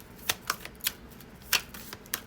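A deck of tarot cards being shuffled by hand, giving a series of quick, crisp riffling snaps at irregular intervals, close and fairly quiet.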